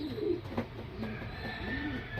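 A kasni kalanka pigeon pair coos in short, low, throaty bursts that repeat irregularly, heard close and fairly soft against light background noise.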